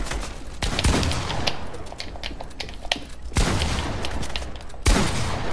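Fortnite box fight with heavy shotgun blasts: a few loud, sharp booms punctuate a busy stretch of close-range in-game gunfire and clatter, with no talking.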